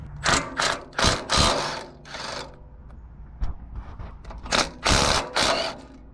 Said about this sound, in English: you want to go ahead and take your 3 support bolts off